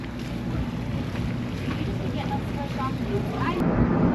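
A motorboat runs steadily across open water in the Exumas, its engine a constant low drone under heavy wind buffeting the microphone, with splashing hull noise and a brief burst of voices partway through.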